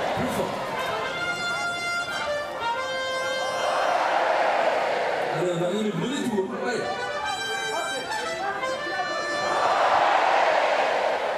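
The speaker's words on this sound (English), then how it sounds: "the crowd able to join in and show their excitement and appreciation, but only while the ball is out of play" A crowd at a Paralympic blind football semi-final between Brazil and Argentina in Paris, cheering and chanting in rising waves across the stadium while a commentator talks over the noise.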